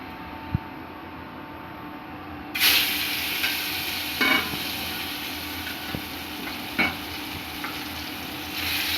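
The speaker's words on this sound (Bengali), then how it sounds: "কাতলা মাছটা একটু ভেজে নিচ্ছি।" Pieces of katla fish fry in a pan with a loud, steady sizzle that begins abruptly a few seconds in, broken by occasional scraping stirs, with no talk.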